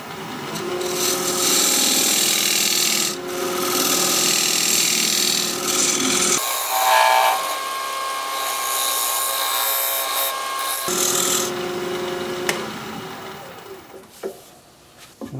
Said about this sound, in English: Use my recess tool to put a dovetail on the outside edge here.